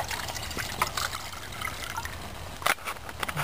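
Water poured from a container into a Trangia kettle at a bushcraft camp, a short uneven trickle and splash with a few louder gurgling bursts near the end, close and fairly quiet.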